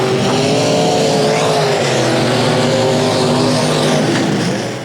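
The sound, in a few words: race car engine at speedway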